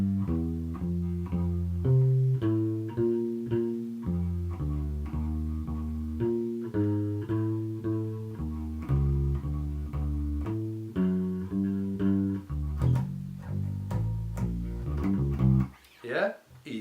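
Bass guitar playing a repeating root, root, fifth and chromatic approach-note exercise, evenly plucked notes in a steady rhythm, near and clear, with a few sharper hits near the end.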